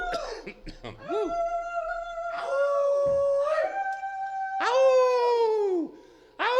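Several people on a stream imitate wolf howls, with overlapping whooping voices rising and falling in a series of loud, close howls and short yips before a brief pause.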